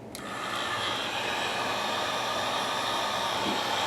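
A hair dryer heats boot polish on leather boots, giving a steady close broadband whirring blow that starts within the first half second and runs unbroken to the end, with no talking.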